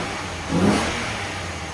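A 1994 Toyota Mark II Chaser fitted with a Vibrant resonator, engine giving a short rev that swells and fades back to a steady mid-pitched hum, fairly subdued over a broad background noise.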